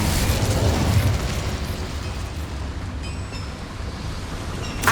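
An Incendio fire spell cast in Hogwarts Legacy, a loud whooshing burst of flame that roars and crackles for about a second, then settles into a lower sustained rumble before a brief flare at the end.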